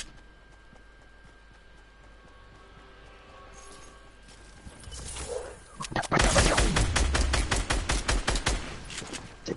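Gunfire in a shooter video game, a shotgun among the weapons: a quiet stretch with faint clicks, then a loud run of rapidly repeated shots that continues to the end, with no talking.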